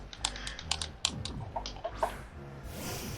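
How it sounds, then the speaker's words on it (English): Rapid, close keystrokes on a computer keyboard come in quick bursts with brief pauses, clicking lightly over a faint background hum. "You can hear me typing it in."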